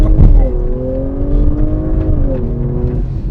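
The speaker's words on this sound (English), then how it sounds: "plant your right foot and wait for the revs to build, then lift the foot off the brake" An Audi launches with launch control, the engine held at high revs before the car pulls away and accelerates hard, a loud close rising engine tone with a thump at the start.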